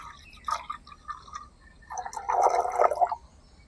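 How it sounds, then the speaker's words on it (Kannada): Extra water is poured into tamarind water for a fireless saaru, giving a short trickle followed by a fuller gurgling pour, quiet and close with no talking. "ಅದಕ್ಕೆ ಸ್ವಲ್ಪ ನೀರು ಎಕ್ಸ್ಟ್ರಾ ಸೇರಿಸ್ತಾ ಇದ್ದೇನೆ"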